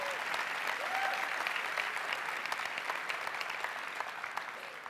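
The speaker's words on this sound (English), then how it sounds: "People are cheering for you, Lola" Sustained applause and cheering from a large audience at the Facebook F8 developer conference for Lola, who started a Nigerian women's group, a dense steady roar of clapping with scattered whistles that eases slightly toward the end.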